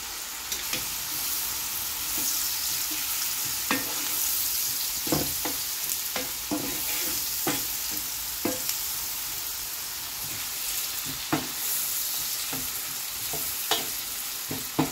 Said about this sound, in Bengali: পেঁয়াজ একটু বালা করে ভাজা লাগে